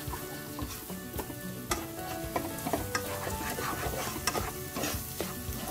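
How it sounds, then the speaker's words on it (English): Ginger garlic paste and spice powders with a little water frying in a pan over a low flame, a steady close sizzle broken by repeated scraping stirs of a spoon, with no one talking. "And continue frying for another 2 to 3 minutes on low flame."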